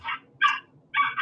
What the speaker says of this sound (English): No, barking at Garmy